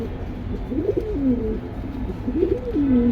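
Pigeons at a market stall cooing close by, two rolling coo phrases in quick succession over faint background murmur.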